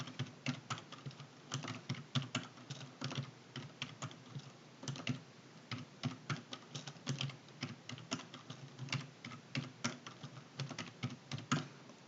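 Fast, close clicking of a computer keyboard during spreadsheet data entry in Excel, with irregular bursts of keystrokes and brief pauses, fairly quiet and free of talk.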